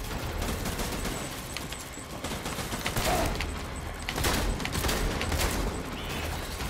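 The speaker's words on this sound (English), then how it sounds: "That was a really rapid fire shotgun." Rapid-fire semi-auto shotgun in the Death Stranding video game, a string of quick loud blasts coming in close bursts amid busy game noise, with no talking.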